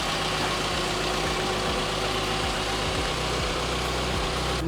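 A 2007-2011 Subaru Impreza's EJ253 engine idles steadily at close range with a low, even rumble and faint pulsing vibration, running alone without voices.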